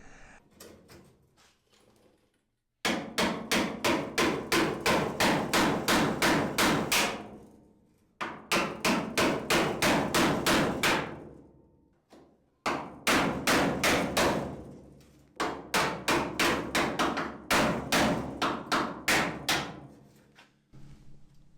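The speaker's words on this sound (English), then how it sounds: "I am using a wood chisel to do this, but it works really well" Hand hammer blows drive a wood chisel along a VW Beetle's front fender area, scraping off rust in long rapid bursts of sharp metallic strikes, close and loud, separated by short pauses.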